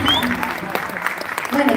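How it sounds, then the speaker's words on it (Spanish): At a gala concert, an audience claps for the performers, a brief burst of crowd applause with a voice talking over it. "fuertes palmas también"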